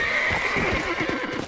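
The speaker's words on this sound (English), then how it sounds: "Okay, I'm only telling you to turn, horse." A horse in the video game Red Dead Redemption gives a close, loud neigh that shakes into a whinny, with hoof clip-clops under it.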